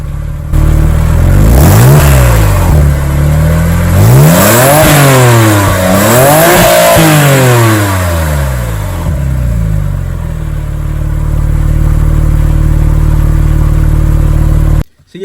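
A Porsche 911 Turbo with a Cobb Stage 2 tune has its exhaust recorded close up behind the car, giving a loud deep idle that rises into several sharp revs and falls back to a steady rumble.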